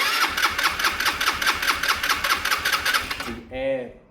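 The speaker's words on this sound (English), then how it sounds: "Because both engines start quite quickly, Charlie." A Sinnis motorcycle engine, running poorly, fires up and revs with a rapid, steady rhythmic beat for over three seconds, then cuts off abruptly, followed by a brief voice.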